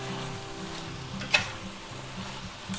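Chicken and broccoli stir-frying with spicy soy sauce, a low continuous sizzle with a low hum under it and one sharp scrape of the utensil midway, no talking.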